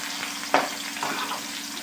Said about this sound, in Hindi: मैं लगा रही हूँ साग का तड़का।